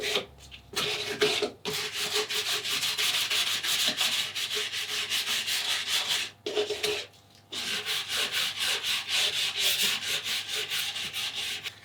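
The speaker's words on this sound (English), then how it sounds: "And the sandpaper's doing its job." Sandpaper of 180 grit rubbing over cured resin around a surfboard fin, loud rhythmic back-and-forth rasping strokes close by, with two brief pauses and no speech.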